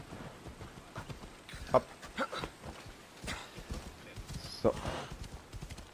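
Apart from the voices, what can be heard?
horse hooves clip-clopping in the video game Assassin's Creed Odyssey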